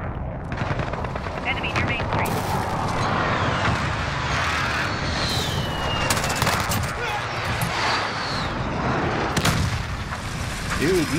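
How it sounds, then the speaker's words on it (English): Enemy precision airstrike in a video game lands as a rapid barrage of loud, overlapping explosions and gunfire-like blasts, with sustained rumbling throughout and players talking over the chaos. "Enemy precision airstrike"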